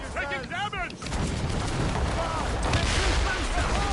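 Enemy ships fire their cannons back in Assassin's Creed Rogue, a dense rumble of booming naval gunfire with overlapping blasts, and a voice talks over it at the start.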